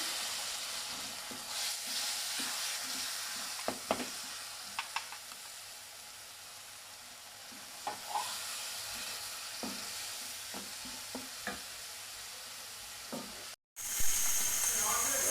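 Tomatoes and green chillies frying with onions in a pan for chicken kofta curry, giving a soft, continuous sizzle broken by occasional stirring knocks, fairly quiet, with a brief sharp dropout near the end.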